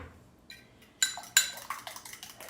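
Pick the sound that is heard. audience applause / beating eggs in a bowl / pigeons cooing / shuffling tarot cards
beating eggs in a bowl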